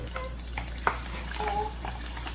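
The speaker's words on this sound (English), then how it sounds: "Once the chicken goes into the hot oil, listen to that sizzle." Chicken burger pieces fry in hot oil with a soft, steady crackling sizzle and a few sharper pops, faint and close, with no talking.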